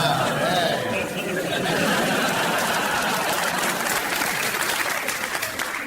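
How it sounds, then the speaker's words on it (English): Studio audience on a comedy panel show bursting into sustained applause, loud and close, mixed with cheering and chatter before gradually thinning out. "That applause, people at home,"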